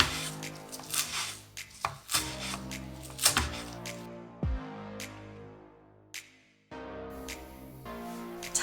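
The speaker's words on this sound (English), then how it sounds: "I'm just gonna cut them into bite-sized pieces." A knife chops leafy greens into bite-sized pieces on a cutting board, giving a quick run of crisp, close taps. A brief pause and a few slower cuts follow, with no talk.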